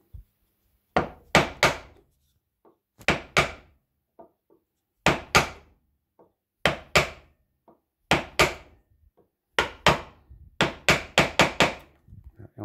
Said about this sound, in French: Le bûchage, c'est ça.